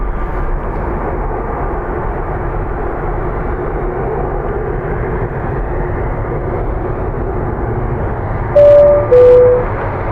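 An Airbus A320neo airliner taxis at Dublin Airport, a steady broadband engine rumble with a faint whine running throughout, joined near the end by two brief louder high-pitched bursts, with no talk.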